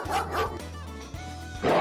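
A dog barks in quick bursts, a couple of sharp barks at the start and another at the end, loud and close over a low steady hum.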